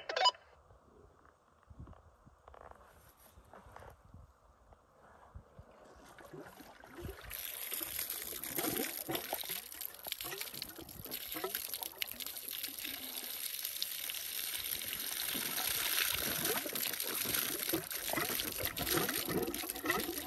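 Water flowing through a garden water system being opened up, a soft trickle at first that swells into a steady, rushing pour and grows louder over time.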